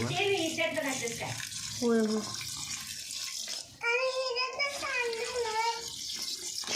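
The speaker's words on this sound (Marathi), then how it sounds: "आणि त्यात आता पाणी मिक्स करायचं आहे" Hot water is poured into a pot of rice mixture for chicken biryani, a soft, steady splashing under voices talking close by.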